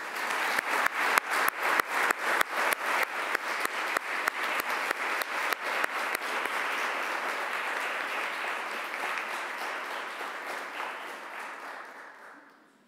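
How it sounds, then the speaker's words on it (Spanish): An audience at an honorary diploma ceremony in La Pampa applauds local artists; clapping starts as a fast run of sharp, near claps, swells into a dense sustained ovation, then tapers and fades out. "les quiero pedir a todos que me acompañen con un fuerte aplauso a estos artistas pampeanos"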